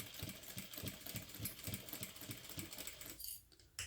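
A sewing machine back stitches through a crossbody bag in a quick, even run of close mechanical stitching, then stops and gives way to near silence with one short final burst.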